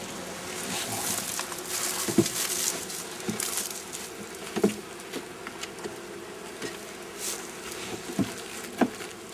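Honey bees buzz steadily around an open hive during the first inspection of spring, a dense close hum broken by occasional light knocks and taps from handling the frames.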